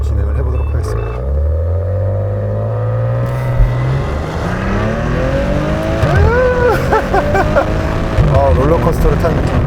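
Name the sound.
Maserati Ghibli SQ4 accelerating in sport mode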